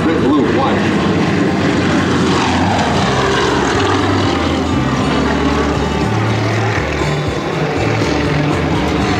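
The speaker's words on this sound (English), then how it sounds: "they're going to fly in another very tight Vic loop" Propeller aircraft of an aerobatic formation team flying a tight Vic loop at an air show, a loud continuous droning engine roar that holds steady throughout, with announcer speech mixed underneath.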